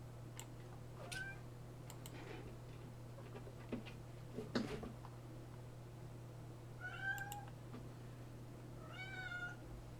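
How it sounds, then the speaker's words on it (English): A mother cat meows several times, calls rising and falling at moderate distance over a steady low background hum, with faint ticking between the cries. "I hear the mama kitty"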